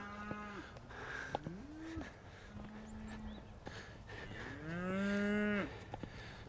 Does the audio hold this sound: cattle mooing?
yes